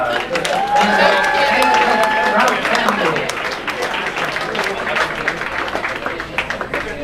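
Guests at a wedding reception break into loud, close applause mixed with crowd noise and a few cheers, and talk runs over and under the clapping throughout.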